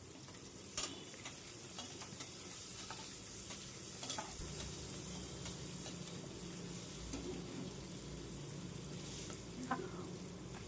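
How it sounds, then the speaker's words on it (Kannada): Onions, beans, bay leaf and cloves fry in oil inside a pressure cooker, giving a steady close sizzle with scattered scraping stir sounds throughout and no talking. "ಕುಕ್ಕರ್ಗೆ ಸ್ವಲ್ಪ ಆಯಿಲ್ ಹಾಕಿ, ಆಮೇಲೆ ಪಲಾವ್ ಎಲೆ, ಮೊಗ್ಗು, ಆಮೇಲೆ ಈರುಳ್ಳಿ ಮತ್ತು ಬೀನ್ಸ್ನ ಹಾಕಿ ಚೆನ್ನಾಗಿ ಫ್ರೈ ಮಾಡ್ಕೊಳ್ಳಿ"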